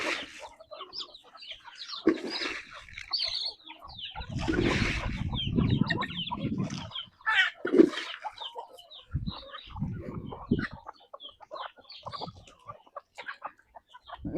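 Native country chickens on a farm cluck repeatedly and irregularly at close range, with several birds overlapping in busy bursts of varying loudness and no talking.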